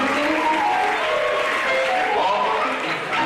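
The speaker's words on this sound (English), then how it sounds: "Please a round of applause for them." An audience applauds a newly inaugurated group at an induction and oath-taking ceremony for a science laboratory technology faculty, a dense, continuous wash of clapping that stays loud and even throughout.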